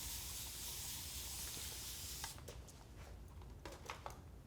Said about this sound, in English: A bit of water spray.